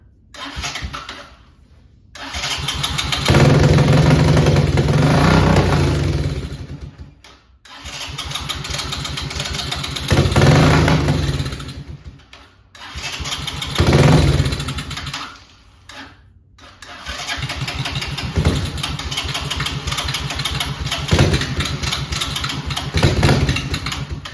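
A 1984 Honda TRX 200 ATV engine with a dirty carburetor starts and cuts out repeatedly, roaring up in bursts between brief silences, then settles into a steady, rough idle near the microphone.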